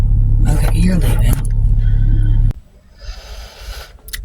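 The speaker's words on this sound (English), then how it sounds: "there's a truck like in the lane just sitting outside my car instead of pulling over" A truck sits idling in the traffic lane beside a parked car at night, a loud steady low engine rumble that drops abruptly partway through, leaving a quieter hum, with speech over the first part.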